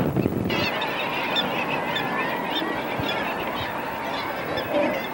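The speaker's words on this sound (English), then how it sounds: "Birds all over the place." Geese honking on open water in Alaska, a steady chorus of overlapping calls near and far that carries on throughout over a low wash of background noise.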